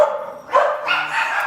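Dogs barking indoors in a home room, a couple of sharp nearby barks and a yip in quick succession, loud and alone.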